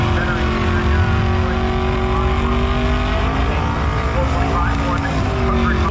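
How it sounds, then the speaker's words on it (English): A 2005 GMC Sierra pickup runs at a drag strip with a loud, continuous engine roar and drone throughout, heard close and steady, with crowd and track ambience mixed underneath. "Alex Algard in the 2005 GMC Sierra"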